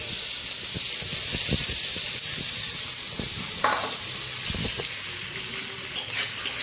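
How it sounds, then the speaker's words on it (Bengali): Chopped onion, tomato and green chilli fry in a pan with very little oil, giving a steady, loud hiss and sizzle, with occasional stirring scrapes and clicks and no talking. "পেঁয়াজ টমেটো আর কাঁচা লঙ্কা আমি কেটে নিয়েছি এটা একসঙ্গে ফ্রাই করে দেবো"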